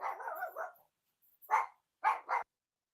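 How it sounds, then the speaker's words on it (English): Dogs bark indoors, opening with a rough, drawn-out bark followed after a pause by three quick, clipped barks close by, with nothing else in between. "I had to get the dogs out."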